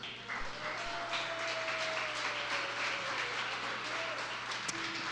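A church congregation at a Portuguese-language Mother's Day service applauds together, a steady wash of clapping that stays even and moderately loud for several seconds while a faint sustained tone hangs underneath.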